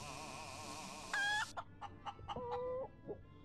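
A chicken in the space survival game Breathedge clucks in a rapid run of short, close clucks with a couple of drawn-out squawks, heard alone over a steady electronic game hum.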